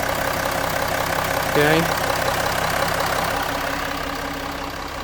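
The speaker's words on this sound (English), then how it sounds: "let me show you how the engine sound" A 2014 Range Rover L405 engine idles with a steady, even hum, close by, while a voice briefly speaks over it.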